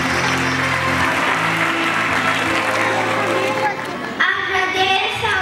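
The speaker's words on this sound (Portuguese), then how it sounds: "Aplaudir as nossas professoras e também as auxiliares nesta noite." Graduation-ceremony crowd applauding teachers and assistants at a preschool certificate event, steady loud clapping mixed with voices and children's chatter, a tonal music-like layer early, thinning briefly near the end before resuming.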